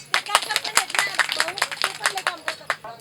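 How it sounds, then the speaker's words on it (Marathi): Pilgrims on the Ashadhi Wari 2024 procession clap their hands in quick, uneven bursts, a lively close applause mixed with crowd chatter and voices. "या दादासाठी आता जोरदार टाळ्या वाजवा"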